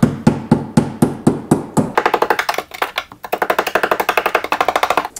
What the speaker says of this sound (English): Give it a few good whacks here.